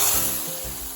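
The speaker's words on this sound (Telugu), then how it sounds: "ఇలా తయారు చేసుకున్న తాలింపును మరుగుతున్న పెసరపప్పు చారులో వేసి ఇంకొంచెం సేపు మరగనివ్వాలి" A hot tempering of curry leaves fried in oil sizzles loudly as it is tipped into boiling moong dal rasam, a brief, steady, close hiss.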